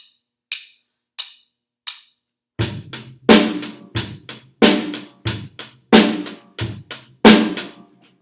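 Drum kit playing a basic rock beat with steady eighth notes on the hi-hat, opening with three light cymbal taps before kick and snare hits land in a regular, punchy groove, close and loud with no talking.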